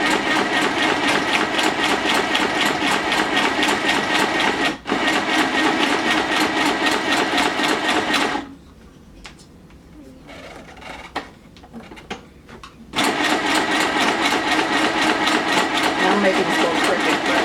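WRMK Stitch Happy sewing machine sewing a scallop stitch, a loud, close, steady rapid whirring run that pauses for a few seconds midway and then resumes, with speech-like sound present.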